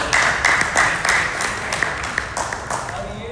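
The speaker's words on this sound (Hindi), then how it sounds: "ताली बजा दो पहले तो" Audience clapping at a ghee product presentation, with scattered hand claps rising into a steady patter of applause that continues through the moment.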